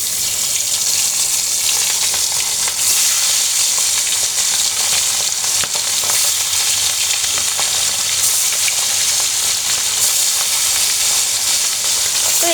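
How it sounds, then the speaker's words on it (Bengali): Hilsa fish pieces frying in very hot oil, a loud, dense, continuous sizzle and crackle right up close, steady throughout with no voices. "আমি বাকি মাছগুলো এখন ভেজে নেব"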